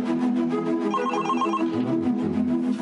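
A telephone rings with repeated bell-like trilling bursts, fairly loud and close, sounding alone for a few seconds.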